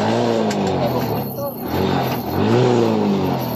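A Suzuki Smash 115 motorcycle engine, running without a battery after a wiring repair to the regulator and ignition switch, idles and revs up and down in rising and falling pitch sweeps while someone talks over it.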